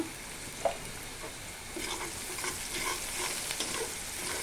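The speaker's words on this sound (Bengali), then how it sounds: "আমার পেঁয়াজটা ভাজা সুন্দর হয়ে গেছে" Quiet, steady sizzling from a pan with occasional scraping stirs and a brief clink near the start.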